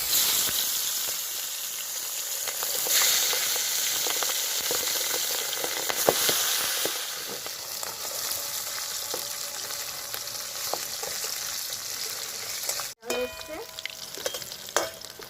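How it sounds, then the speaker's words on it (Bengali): Pabda fish fries in mustard oil in a kadai, giving a loud, continuous close sizzle with crackles and spatters, a few clinks and a brief dropout near the end, with no voices. "তেলের মধ্যে মাছ দিয়ে দিলাম"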